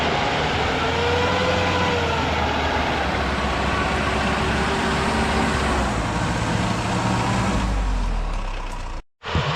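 A car stuck in heavy snow revs its engine steadily while being pushed, a loud continuous drone with no talk, cutting off abruptly near the end.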